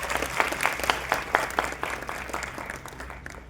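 An audience claps at a school cultural programme run by the Shri Janai Pratishthan in 2025, a steady moderate applause with distinct individual claps, fading slightly toward the end.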